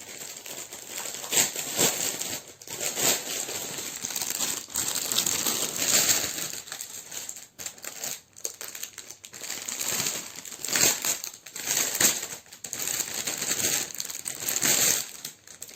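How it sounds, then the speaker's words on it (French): Plastic packaging around an 11-count 40 by 50 cm cross-stitch canvas being opened, with repeated crinkling and crackling bursts at close range, stopping and starting irregularly throughout. "Je suis vraiment désolée pour les bruits de plastique que vous avez pu avoir"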